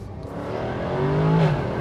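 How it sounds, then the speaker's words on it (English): A Jaguar F-Type R V8 engine revs up through an upshift, a steady, rising growl heard alone with no talk. "that's just a proper V8 noise"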